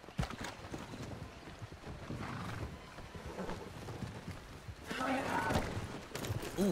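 Horse hooves clip-clopping in a western video game set near a river bend, a rhythmic muffled trot under game ambience with voices chatting over it, growing louder and busier toward the end.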